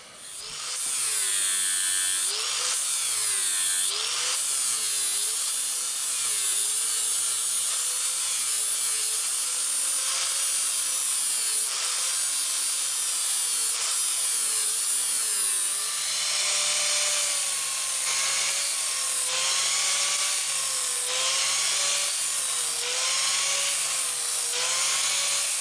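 Boat motor propeller being sharpened and sanded with a power tool, a continuous loud grinding whine with shifting pitch that rises and falls throughout, steady and close with no talking.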